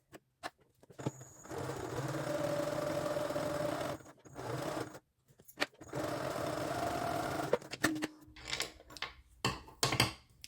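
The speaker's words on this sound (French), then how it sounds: "on va coudre tout le long un quart de pouce" A sewing machine stitches a quarter-inch seam along quilt triangles, running in two steady bursts of several seconds each with a short pause between, close and moderately quiet, followed by light handling noises.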